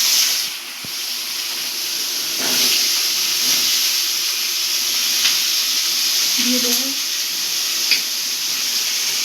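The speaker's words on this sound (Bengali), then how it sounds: "তেলে আমি কালো জিরা ফোড়ন দিয়ে আলু আর পেঁয়াজটা ছেড়ে দেবো" Potatoes and onions sizzle in hot oil tempered with nigella seeds, a loud, continuous hiss that swells and settles over nine seconds, with a faint voice briefly in the background.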